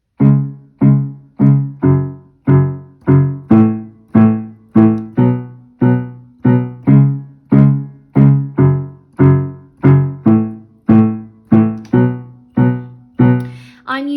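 Piano left-hand part of Ed Sheeran's Shape Of You played at a quicker tempo, a steady stream of about twenty-five detached low notes repeating the pattern, close and clear with nothing else over it.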